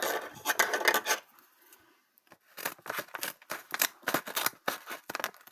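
Scissors snip and rasp through a package during an unboxing, a series of quiet, scratchy cuts with a short pause before a quicker run of snips at close range.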